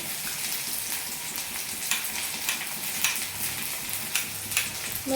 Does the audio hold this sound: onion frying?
yes